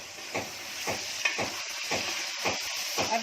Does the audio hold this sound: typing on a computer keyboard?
no